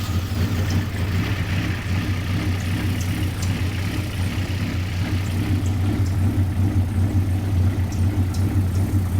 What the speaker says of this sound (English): we're going to give the car a cold start and let it warm up a little bit